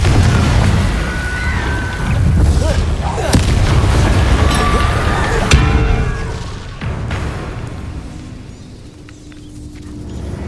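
Confringo blasting spells explode in Hogwarts Legacy, several loud, rumbling booms and bursts in quick succession over dense battle noise, fading to quieter ambience toward the end.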